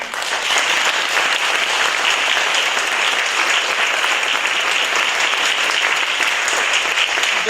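A concert audience gives sustained, dense applause for composer Fulvio Madotto at a choral evening, a steady, loud wash of many hands clapping with no voices on top.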